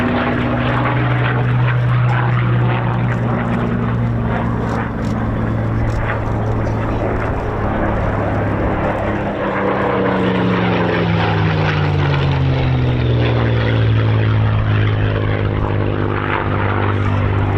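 A Spitfire MK356 pulls up into a victory roll at an RAF Cosford air show, its propeller engine droning loudly and shifting pitch as it passes overhead, with faint commentary in the background.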